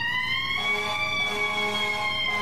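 Emergency vehicle siren in the game EmergeNYC, a steady tonal wail with strong harmonics that holds loud and close for a couple of seconds.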